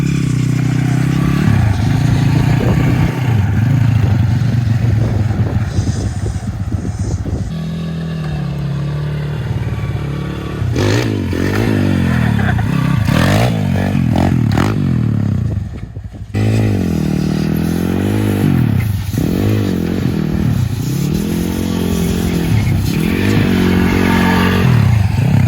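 A small pit bike fitted with chair wheels ridden around, its single-cylinder engine revving up and down repeatedly with rising and falling pitch, close and loud, with clattering and scraping over roughly 25 seconds.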